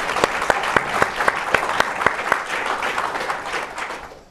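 An audience at a diplomacy panel discussion bursts into applause, with a few distinct claps at first merging into a thick, even clapping that builds and then starts to fade near the end.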